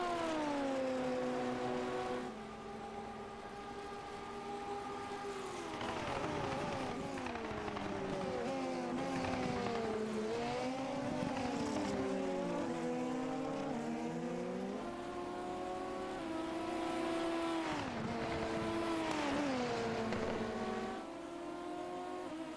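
Formula race cars in the ABN Hyper Formula Championship at Oyama scream past on track, their high-pitched engines rising and falling through gear changes and overlapping as several cars pass, steady and loud throughout.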